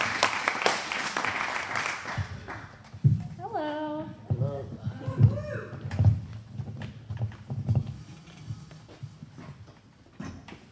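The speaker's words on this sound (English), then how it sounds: "So please, a warm round of applause" An audience at a live radio show applauds to welcome a ghost folk punk band. The clapping is moderately loud at first, then fades as someone talks.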